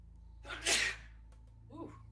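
A single sharp sneeze bursts out close to the mic during a relaxed gaming session, followed by a soft breathy vocal sound and a low steady hum underneath.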